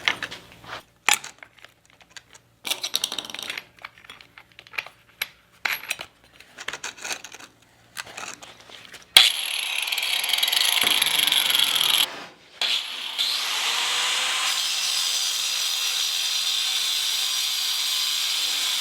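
A thin diamond-edge cutting blade slices through metal tube, starting after a run of scattered knocks and scraping handling sounds, then a loud, steady, high-pitched grinding whine with a short dip partway through before it resumes.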